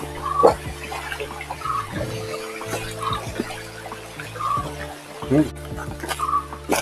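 Water rushes steadily through Kerala's longest aqueduct, a continuous broad wash heard at moderate distance with faint intermittent tones and soft background sounds over it.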